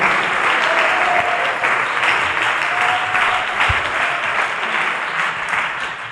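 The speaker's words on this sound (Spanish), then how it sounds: "Denles ofrenda de palmas al Señor" Sustained applause from a church congregation fills the room, a dense steady wash of many hands clapping at even loudness throughout, with faint voices briefly audible beneath.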